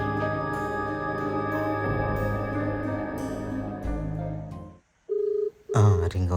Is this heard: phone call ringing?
yes